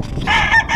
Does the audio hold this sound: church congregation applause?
no